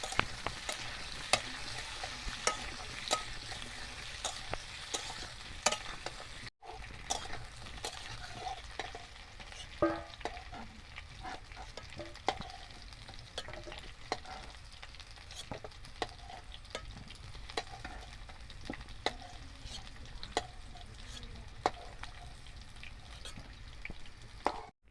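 Potatoes frying in a pan make a steady soft sizzle, punctuated by repeated sharp taps and scrapes of a spatula stirring them, with no one speaking.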